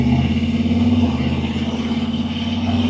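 Bagged pickup truck with an Edelbrock intake, its engine running smoothly at a steady idle, a close, even low rumble with no talking over it.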